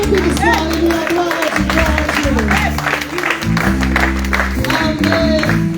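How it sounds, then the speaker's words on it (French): Audience at a church teaching meeting claps together in a loud, steady burst of applause, overlaid by an amplified voice speaking and a sustained musical drone beneath. "Bon applaudissement."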